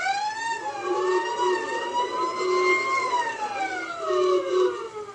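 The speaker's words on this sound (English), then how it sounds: "Fire engines came running and there was much excitement." Fire engine sirens wail as a sound effect on a 1948 children's story record, a loud wavering rise and fall that swells and dips continuously while an engine rumbles underneath, with no talking.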